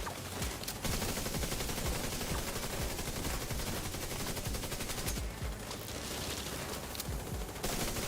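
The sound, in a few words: gunfire from the video game Division 2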